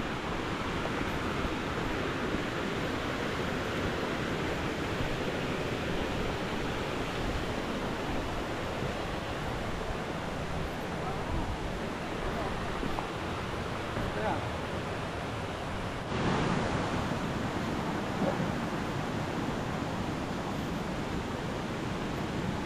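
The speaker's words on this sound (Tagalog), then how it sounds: "Naririnig na namin yung tunog ng Veto Falls." Veto Falls, a waterfall along a mountain trail, rushes in a steady broadband roar heard from some distance, continuous and even throughout with a faint change partway through.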